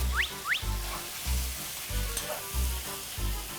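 Squid, crab and shrimp stir-fry in a pan for Thai curry-powder seafood, a loud, constant sizzle with rhythmic scraping and stirring pulses about every second, plus a couple of brief metallic squeaks, no voices.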